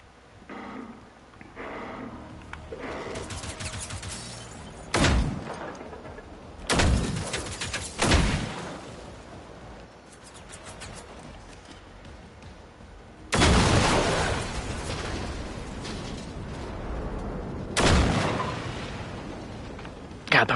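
Chain explosions from mines in a mech video game, heard as several loud broadband blasts at irregular intervals, each decaying into rumbling, over a busy bed of game sound.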